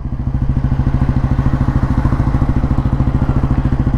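A 1957 Royal Enfield Bullet G2 motorcycle engine thumps out a steady, even single-cylinder beat at idle, close and loud, with a low clattering pulse and no voices.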